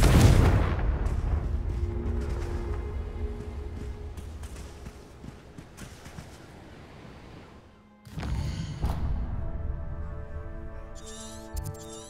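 A Confringo blasting curse cast in Hogwarts Legacy, a loud booming blast that decays slowly over several seconds and gives way to a second burst of crackling impact with lingering musical tones.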